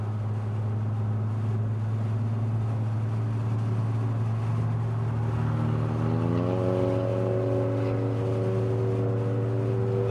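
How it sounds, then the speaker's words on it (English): A Volkswagen TSI car with little muffler passes on a road during early morning rush hour, a steady loud engine drone with rising pitch as it goes by, heard without talk. "there's not a lot of mufflers on that, the TSI on the Volkswagen that went past, and it sounded gross"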